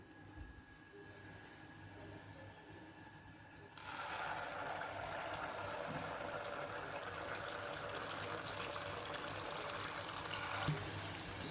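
A quiet hum gives way to a steady bubbling sizzle as Mysore bondas drop into hot oil, deep frying continuously at close range.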